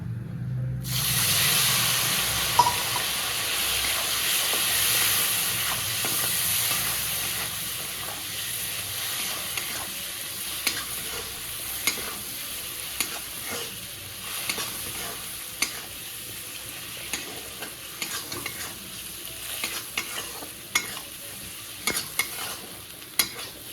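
Shrimp with cumin and chili powder frying in hot oil, a loud burst of sizzle that settles into a steady hiss while a spoon stirs with repeated sharp scrapes and clinks against the pan.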